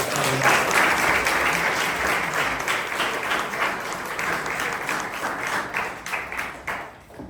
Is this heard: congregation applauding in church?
yes